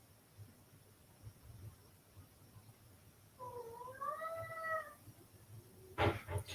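A housecat that has already been fed roams and complains with one rising, wavering meow, moderately close, followed by a brief sharp noise over a low hum, with no talking.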